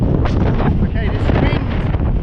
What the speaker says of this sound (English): wind is getting worse and worse